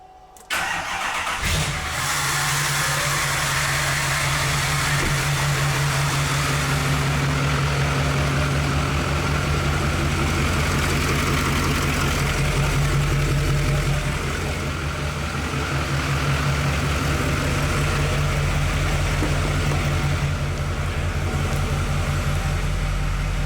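A car engine starts and then settles into a steady idle, running continuously and close by inside a ventilated shop, with a firm low hum and no talking.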